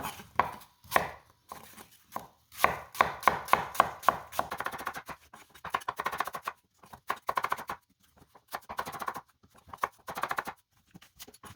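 Apples sliced with a knife on a board for apple pie: rapid, rhythmic chopping taps in close bursts, some quick runs of strokes and short pauses between, crisp and near, with no talking.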